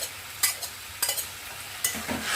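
Boiled lentils going into a pan of bitter gourd, with three distinct stirring scrapes and soft sizzles at a steady pace, close and moderately quiet, without any talk.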